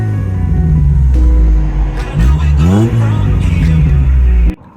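A modified exhaust on a 1990s Rover Metro revs hard several times close by, rising and falling in pitch over a steady idle before cutting off abruptly.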